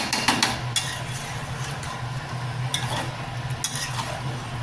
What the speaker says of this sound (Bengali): এবার এইটা দিয়ে কষাবো টাইম নিয়ে নিয়ে কষাবো